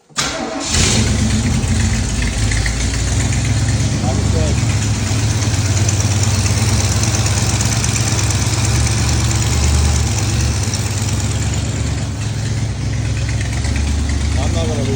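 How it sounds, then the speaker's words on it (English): A car engine cranks and catches after sitting unused for about six months, then settles into a steady, loud idle that runs continuously close by for the rest of the stretch. "turn the key and it probably start right up and idle."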